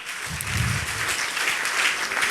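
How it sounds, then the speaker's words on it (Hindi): Audience applause breaking out at a Hindi-language teachers' event honouring a government schoolteacher, a steady dense patter of many hands clapping throughout the short stretch, with no voices over it. "ताली।"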